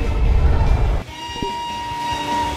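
A train runs along a railway, with a loud low rumble at first that drops to a steadier hum, a few clanks, and a faint tonal horn or whistle sustained in the background.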